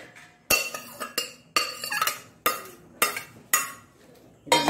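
Metal pots clink and clatter repeatedly as cooked papaya for a Mangalore-style rasa is transferred into another vessel, about eight or nine crisp, close knocks at an uneven rhythm.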